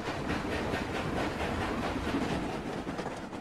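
A train travels along the rails with a continuous, even rumble and a faint rhythmic clatter of wheels, heard steadily throughout at moderate distance with no voices.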